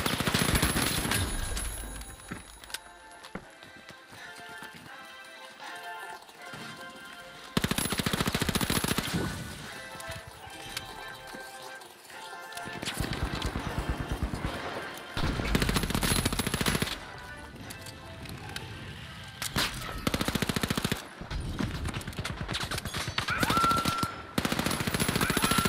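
Rapid zapping gunfire bursts in a video game, loud repeated volleys starting and stopping across the stretch with brief quieter gaps between.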